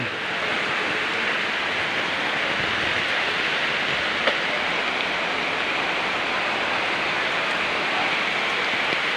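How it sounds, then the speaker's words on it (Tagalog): A dense, continuous rush of rain, even and unbroken, filling the whole stretch with no voices. "Kasi yung ulan."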